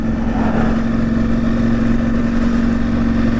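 A truck engine idles close by, a steady low droning rumble with a constant hum and no talking over it.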